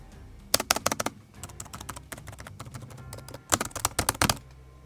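Keys clicking on the keyboard of a 10-inch portable gaming laptop, quick bursts of crisp taps in uneven clusters with short pauses between, close and distinct with no talking.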